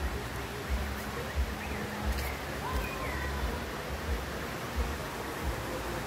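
A constant rush of the Lagedo stream in Barra do Garças, Brazil, flowing over rocks, with a faint voice now and then in the background.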